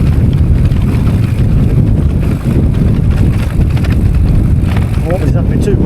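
Strong wind buffets a walker on the open moorland of the Widdop loop, a loud, continuous roar and rush that stays close and steady throughout.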